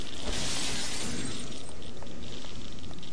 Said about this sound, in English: The shattering of that glass came a little too...